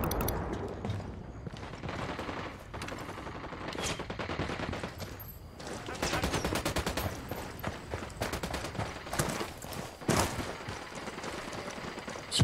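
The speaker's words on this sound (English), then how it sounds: "Shots fired" Heavy gunfire in the video game Ghost Recon Wildlands, with dense automatic bursts and rapid shots continuing throughout at a loud, sustained level.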